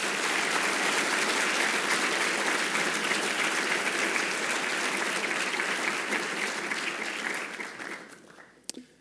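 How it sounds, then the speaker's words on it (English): Sustained audience applause for students at an event, loud and dense from many hands, holding steady before tapering off and falling away near the end with a last few claps. "one more round of applause to the students"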